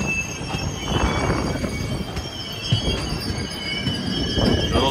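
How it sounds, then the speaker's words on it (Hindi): The Thiruvananthapuram–Shalimar Express, hauled by a WAP4 electric locomotive, rolls past with a steady rumble of wagons, squealing wheels and faint clickety-clack, heard continuously from close by with no talking. "देखिए ट्रेन निकली चली जा रही है"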